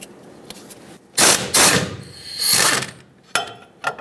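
A 10mm Allen socket on a ratchet unthreads a front brake caliper slider pin on a 2007-2014 Chevrolet Silverado 2500 HD, giving a few short, close bursts of clicking ratchet ticks separated by pauses.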